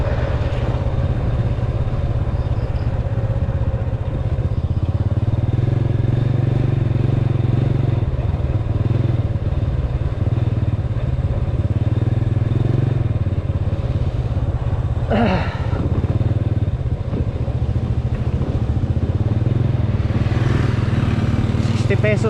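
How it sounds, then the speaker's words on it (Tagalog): Small motorcycle ridden over a rough village road, its steady low engine drone continuous throughout with occasional rattles and clatter, close to the recording and fairly loud. "Dahil ang ating motor ay maliit naman eh."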